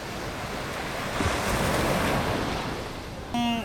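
Ocean waves roll steadily onto an island beach in Quezon, Palawan, a broad continuous wash of surf mixed with wind buffeting the microphone, with a short tonal beep near the end.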